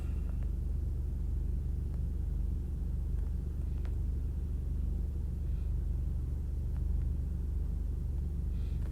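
Steady low road rumble inside a moving car fills the cabin without pause, a constant engine and tyre drone with faint ticks on top and no voices.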